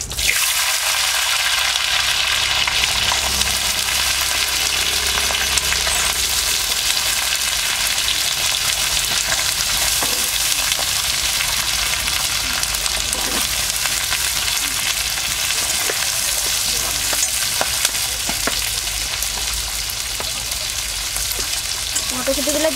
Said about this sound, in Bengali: কাজু বাদামগুলো একটু নেড়ে নেবার পর এর মধ্যে দিয়ে দেবো মটরশুঁটি।